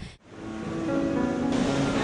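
Ocean waves surge onto a Konkan beach as a steady, swelling wash of surf that builds after a brief dip, with no voices.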